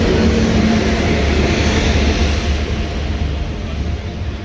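Train pulling into Dum Dum station in Kolkata, a loud steady rumble of rolling wheels and engine noise that eases slightly toward the end, with no talk.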